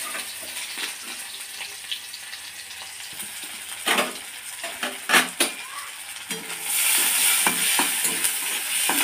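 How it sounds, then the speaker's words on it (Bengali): Onion frying in a pan for chicken mughlai filling, a steady sizzle with spoon scrapes and metallic taps, growing louder and hissier toward the end. "পেঁয়াজটা ভালো করে ভেজে নিয়ে কিমাটা দিয়ে দেব।"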